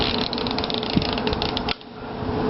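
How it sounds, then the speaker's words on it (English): A mechanical timer motor being turned by hand gives a rapid, close ratcheting whir over a steady hum, then a sharper click as the mechanism steps to the next position. "that click we just heard, that's turning from 1 to 4"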